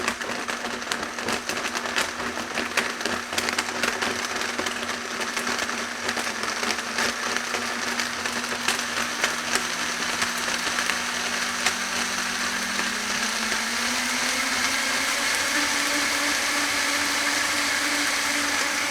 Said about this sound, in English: now I've got the blender on maximum speed